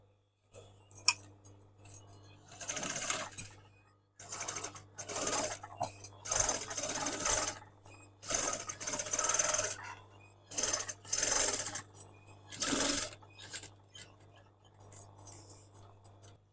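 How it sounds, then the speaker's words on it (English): A domestic sewing machine top-stitches the lining of a crochet bag in repeated runs of fast whirring, with short pauses between bursts and light fabric handling sounds, close and clear. "I'm going to top stitch this down, and again I'm going to pull this, and this time run it on this side of the foot"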